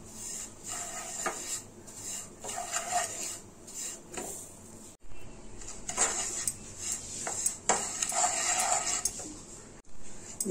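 A metal spoon scrapes and stirs a cup of coconut powder in half a spoon of ghee in a pan over medium flame, giving repeated soft scraping and clinking strokes up close, with no voices.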